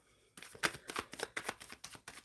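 A deck of tarot cards is shuffled close by, a rapid run of riffling slaps and flutters in an even rhythm after a brief silence.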